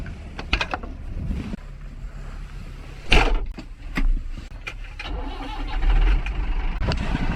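A farm tractor engine cranks over and catches, then revs up in a few loud bursts before settling to a rumbling idle, heard close by with some clatter around it.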